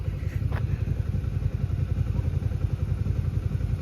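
Motorcycle engine rumbling steadily nearby at a bike-learning ground, a continuous low putter with a faint clatter early on.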